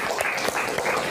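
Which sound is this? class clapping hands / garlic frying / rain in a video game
class clapping hands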